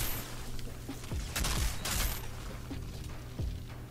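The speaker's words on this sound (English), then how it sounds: "Person right there shooting me" Enemy gunfire in the shooter game Outriders comes in several sharp bursts and single shots, set against a low steady in-game hum; a few bursts land close together near the middle.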